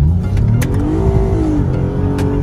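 A Lexus IS350 with an MFORCE flame tune accelerates hard, its engine droning loud and close with a rising rev through the middle, a steady interior roar throughout.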